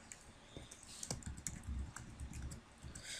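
Steady typing on a computer keyboard, a continuous patter of close, quiet key clicks with a few sharper taps, no speech.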